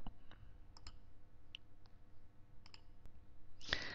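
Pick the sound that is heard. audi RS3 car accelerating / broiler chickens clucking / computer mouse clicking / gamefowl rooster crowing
computer mouse clicking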